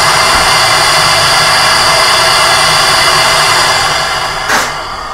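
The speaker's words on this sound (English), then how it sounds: "The method that we're using is the pneumatic sieving principle, or aerodynamic sieving." A Hosokawa Mikro Air Jet Sieve running on powdered sugar, giving a loud, steady broadband air rush like a jet of blowing air that eases off near the end, with a brief puff or clunk as it stops.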